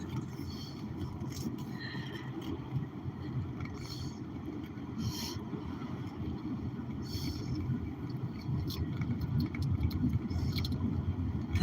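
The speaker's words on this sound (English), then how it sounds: "you kids are riding with the sound of engine noise in a sports car" A Ford Mustang convertible sports car on the move gives off a steady low engine rumble and road roar, with wind buffeting across an open cabin and no talk.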